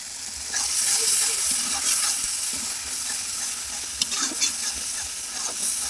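Spice masala with garam masala and meat masala powder sizzles and is stirred in a pan for a potato curry (dim alu), giving steady close frying hiss with scraping stir strokes throughout.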